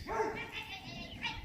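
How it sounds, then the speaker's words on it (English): A couple of dogs fighting and barking at an old house site, heard as distant yelps, whimpers and short barks mixed together, fairly faint in the background. "Got a couple of dogs fighting in the background over there."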